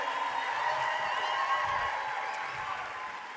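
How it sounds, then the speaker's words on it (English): A seated audience at a coaching leadership event applauds steadily, a dense crowd of clapping from start to finish that fades slightly at the end. "One more big round of applause for Scotty Hobbs and Saudi Almonte."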